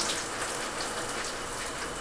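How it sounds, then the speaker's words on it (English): Wet curly hair being scrunched by hand with leave-in conditioner and gel, giving a steady, close, squelchy wet crackle with no pauses or talk. "Then I add the gel, raking it and scrunching my hair."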